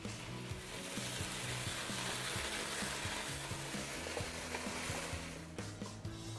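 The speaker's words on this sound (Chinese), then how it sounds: "开大火煸炒" Water spinach with shrimp paste is stir-fried in a wok over high heat, a dense steady sizzle overlaid by rhythmic metallic scraping and clanks of the spatula tossing the greens, close and busy.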